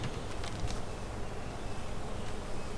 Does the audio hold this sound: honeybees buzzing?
yes